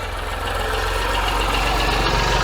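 A vintage tractor at a small local show runs steadily near and loud, its diesel engine thudding in an even, rapid idle rhythm with no talk over it.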